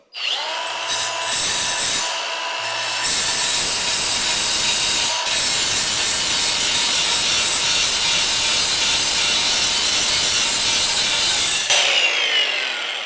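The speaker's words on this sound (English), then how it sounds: "I'm curious to see if I can use this as also a grinder to remove the burr here" A carbide or diamond impregnated carving tool grinds a burr off a workpiece, a loud, close, harsh whine that starts and stops in short bursts before running steadily for several seconds and then winding down.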